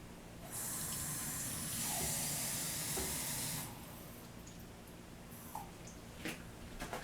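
Room-temperature water pours into a cup with a steady rushing hiss for several seconds, then stops, leaving quiet background noise and a few faint drips or clinks.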